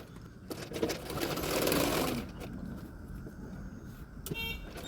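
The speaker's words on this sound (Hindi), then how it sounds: "जो गला है उसको भी किनारे किनारे पे एक एक सिलाई डाल दूँगी।" Sewing machine stitching along the neckline edge of a double katori blouse, size 36, with a steady close whirring run that swells and then eases off, followed by quieter mechanical ticking, no voice over it.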